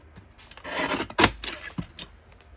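Paper being trimmed for a junk journal collage, a few short close scraping and cutting rasps in quick bursts with brief pauses between.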